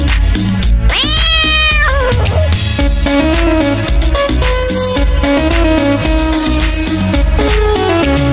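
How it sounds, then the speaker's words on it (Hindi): A Hindi children's song with dense instruments throughout; a high gliding voice-like tone near the start may be a sung or produced cat meow, not a real cat. "मुझे बिल्ली ने जगाया, बोली म्याऊ म्याऊ म्याऊ"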